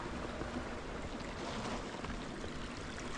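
A creek flowing through rocky desert terrain in the Superstition Mountains of Arizona, a steady broadband rush of water, close and continuous with no voices.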